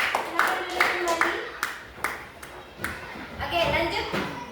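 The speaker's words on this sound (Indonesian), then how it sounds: "kita berikan tepuk tangan untuk kelompok Fatan" Children in a classroom give a group a round of applause, with uneven, scattered claps that rise and fall over chatter and a teacher's voice.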